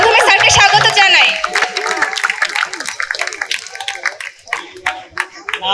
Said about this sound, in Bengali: সকলে করতালির মাধ্যমে স্যারকে স্বাগত জানাই